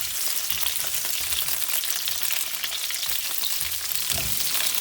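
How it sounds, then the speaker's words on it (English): Garlic frying in three tablespoons of oil in a wok, a loud, continuous hiss and crackle with a few soft knocks from stirring, heard alone without talk. "In a wok, I'm adding 3 tablespoons of oil. I'm adding the garlic first."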